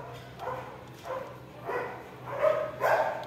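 A dog barks about five times in a steady series of sharp, moderately distant barks over a low background hum, growing slightly louder toward the end.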